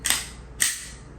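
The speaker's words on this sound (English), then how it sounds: "Pull back the slide." A Glock 19 pistol slide is racked during cleaning and lubrication, giving two quick, sharp metallic clacks about half a second apart, close and clear with no talk.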